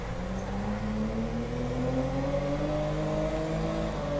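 A 1300 cc Toyota Corolla in GTA 5 strains its engine while climbing off-road, a steady revving drone with slowly rising pitch lasting several seconds at moderate level.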